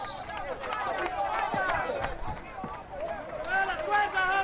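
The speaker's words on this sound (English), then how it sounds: "You can hear the cheering." A large outdoor crowd in Venezuela cheers and shouts, with many overlapping voices rising and falling in a dense, continuous roar close by.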